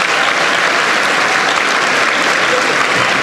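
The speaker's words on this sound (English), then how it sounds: "Give them a big round of applause." Sustained, dense applause from a large commencement audience fills the space evenly, a steady wash of clapping with no gaps and no voices rising above it.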